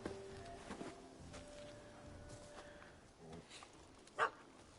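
A puppy in The Witcher 3 gives a few yips and short barks amid quiet game ambience, with one sharper bark near the end.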